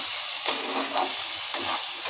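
Pui mituli, Malabar spinach berries, frying in a wok, a steady hiss of sizzling oil with a few soft stirring scrapes breaking through, close and continuous, with no voices.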